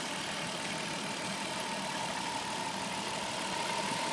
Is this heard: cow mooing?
no